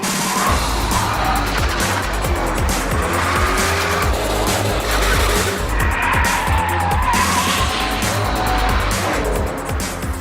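A Ford Shelby GT500 Mustang, the modern-day version, driven hard with a loud continuous engine roar and tires squealing and skidding throughout, close and steady with no pauses.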